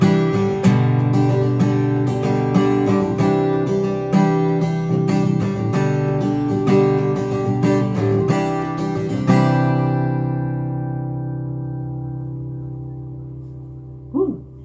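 Steady strumming on a Fender CD140-SCE acoustic-electric guitar, bright and full, ending on a ringing chord that fades out; a brief voice at the very end.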